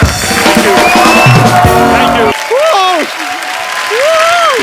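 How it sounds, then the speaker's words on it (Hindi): Studio audience applause on The Kapil Sharma Show for Hrithik Roshan, Ashutosh Gowariker and Pooja bursts loudly over music for the first couple of seconds, then cuts off as voices talk. "जोरदार तालियां ऋतिक रोशन, आशुतोष गोवारिकर एंड पूजा के लिए"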